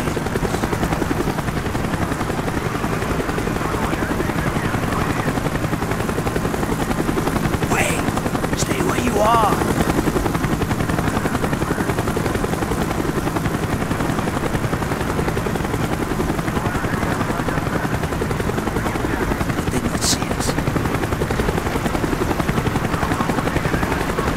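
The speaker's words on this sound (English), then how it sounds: "The chopper is coming around again." A helicopter circles overhead in Call of Duty: Black Ops, its rotor thumping in a steady, loud drone that persists throughout, with brief sharp game effects cutting in midway and near the end.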